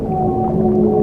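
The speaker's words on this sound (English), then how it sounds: "and then there's like whale sounds" Whale sound effect playing at a crowded children's event, a loud, sustained, tonal moan held steadily without a break.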